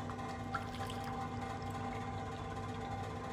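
Water is poured into a pot while making prawn biryani, a steady close splashing pour that runs continuously and fairly loud, with no talking.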